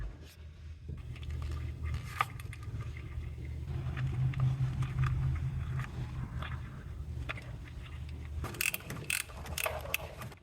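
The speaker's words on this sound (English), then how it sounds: "So I've got the smallest ratchet that I can find." A small ratchet tightens a bolt on the plastic valve cover of a 2008 Infiniti FX35, with faint quick clicking over a low steady hum, followed by a few sharper clicks and knocks near the end.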